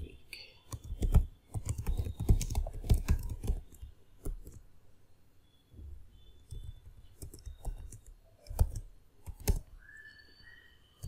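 Bursts of computer keyboard typing while entering SQL commands to create a PostgreSQL table on Rocky Linux, rapid close key clicks in uneven runs with pauses and a few faint whistle-like tones.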